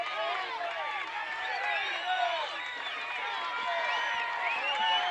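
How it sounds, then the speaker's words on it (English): Home fans at a Lincoln County high school football game chant for the defense, a far-off crowd roar rising and falling steadily while a play-by-play announcer talks over it. "Lincoln County crowd here breaks out on a defense chant."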